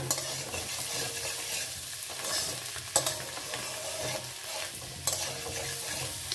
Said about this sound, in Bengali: সর্ষের তেল দিয়ে কড়াতে দিয়ে আমি আলুটা ভেজে নিচ্ছি, নাড়াচাড়া করে ভেজে নিচ্ছি